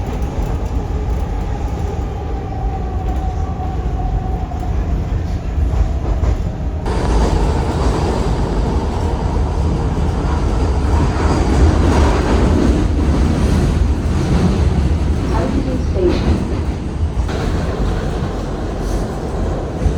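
Inside a moving Philadelphia subway car: steady loud rumble and rattle of the train on the tracks, with a clear change in tone partway through as the ride roughens, no speech heard.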